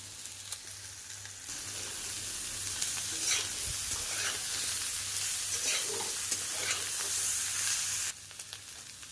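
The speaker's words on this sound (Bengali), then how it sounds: "খুব ভালোভাবে উচ্ছে আর আলুর সাথে মাছের তেলটাকে একটু ভাজা করে নেব।" Bitter gourd and potato fry in fish oil with onion and green chillies, giving a loud, close, continuous sizzle broken by repeated scraping and stirring strokes, which fall away abruptly near the end.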